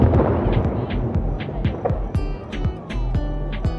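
Quick bursts of crackling fireworks pops and bangs at a beach on Ishigaki, Japan, sound close together and fairly loud, leaving short ringing tails between them.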